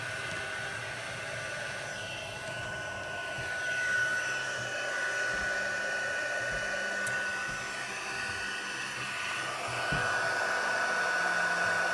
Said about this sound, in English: because I have the heat tool